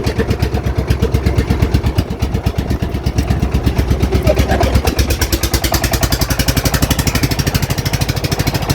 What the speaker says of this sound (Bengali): নৌকাটা কিন্তু স্টার্ট করে দিচ্ছে